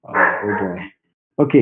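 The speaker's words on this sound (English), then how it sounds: "Sorry about my dogs." A dog barks in a loud, close burst, then a second short bark follows after a brief pause, with a person speaking a few words alongside.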